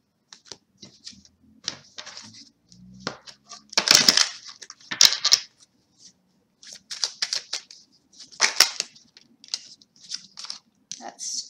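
Tarot cards are gathered and slipped back into the deck: quiet, irregular bursts of papery riffling, flicks and soft taps separated by short silences.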